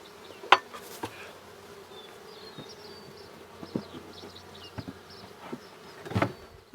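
Mountain Grey Caucasian honeybees buzz steadily around an open hive, a soft continuous drone with a few louder passes close by and some handling knocks.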